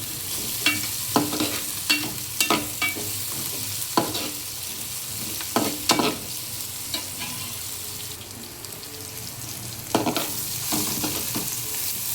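Green chillies and onions sauté in a pan for fish kulambu, with a continuous close sizzle and repeated scraping spatula strokes at an uneven rhythm, and no talking.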